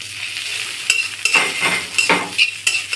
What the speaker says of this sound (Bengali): পেঁয়াজ কাঁচামরিচটা ভেজে গরম করে নিব